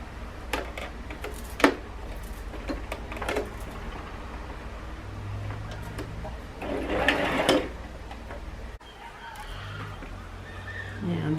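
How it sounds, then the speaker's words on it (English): A sewing machine stitches around a fabric face mask made to match a DIY wedding dress, running as a steady low mechanical hum with brief pauses. A voice speaks now and then. "From this notch, I'm gonna stitch all the way around."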